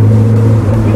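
A rare Santa Matilde car with a 4.1 engine pulls hard, a loud close steady engine drone with a strong low tone lasting about a second.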